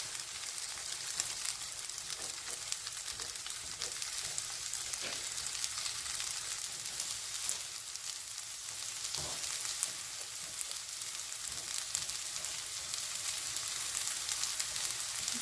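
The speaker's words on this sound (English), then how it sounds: "I'm going to scramble the eggs until they're cooked." Eggs scramble in a hot pan for a Japanese noodle bowl, giving a continuous close sizzle and crackle. Occasional soft scrapes come through, and no one speaks.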